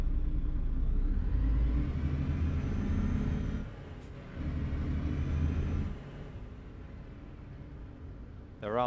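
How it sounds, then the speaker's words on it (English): Deep, steady rumble of a truck engine idling and revving in the video game Euro Truck Simulator 2, with low droning hum and a brief drop in level midway. "The truck sounds are on point as well,"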